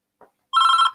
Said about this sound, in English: my phone's going.